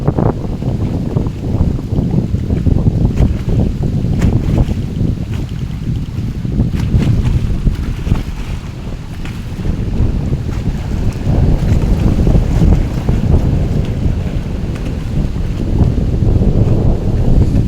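Strong cold wind sweeping across a pond, with waves slapping against the shore. A loud, steady rumble of gusts and microphone wind buffeting covers the lapping water, and nobody speaks.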